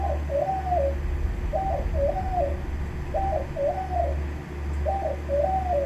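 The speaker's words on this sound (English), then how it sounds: "he doesn't coo like a normal dove" A 15-year-old pet dove named Booger with an unusual coo, repeating a mellow two-part cooing phrase four times at an even pace, close and clear over a low steady hum.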